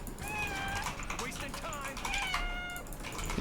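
A house cat meows several times close to the microphone, drawn-out plaintive calls heard over the steady sound of a Command & Conquer 3: Kane's Wrath game playing in the background.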